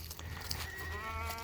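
A single goat, a wormed doe on a farm keeping Kiko and fainting goats, gives a short, steady bleat over a low background hum, close and moderately loud with no talking.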